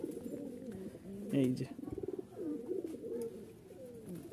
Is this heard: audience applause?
no